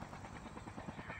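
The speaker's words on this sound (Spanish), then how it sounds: "Fijaros qué helicóptero, cómo mola." A helicopter flies in a Call of Duty battle royale match, its rotor producing a steady rapid thumping chop with a continuous engine whine, fairly close and unbroken.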